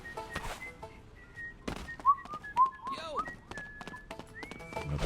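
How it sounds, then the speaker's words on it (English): In the video game Goat Simulator 3, short whistled notes and sliding whistle tones ring out between hollow thunks and footstep-like clops, moderately loud amid light background game sounds. "I'm not going to whistle all the time, that'll hurt your ears"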